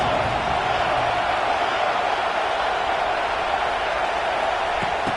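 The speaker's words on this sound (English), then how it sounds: "This crowd trying to make life miserable for this offense." Broad, continuous murmur of a football stadium crowd at a Bama vs Oklahoma game, a steady roar of many voices blended together, distant and unbroken throughout.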